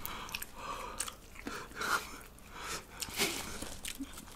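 Crispy fried chicken with a very thin batter being bitten and chewed off the bone, close crunchy and wet mastication sounds in irregular bursts, with no talking.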